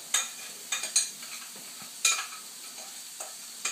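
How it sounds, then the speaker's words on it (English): Bursts of rice sizzling in a hot frying pan, several loud hissing surges that fade between them, with faint clinks of stirring. "Sizzling sound is amazing."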